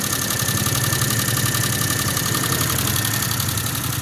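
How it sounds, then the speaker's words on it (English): A turbocharged kei car engine idles steadily after a fresh turbo replacement, a continuous low rumble with a faint rhythmic pulse and high whine, smoke and burning oil coming off it, no voices. "It's idling okay, but it always idles okay."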